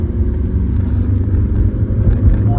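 A car climbing a hill road in second gear at around 3000 to 4000 RPM, its engine giving a loud, steady low rumble heard continuously from inside the cabin.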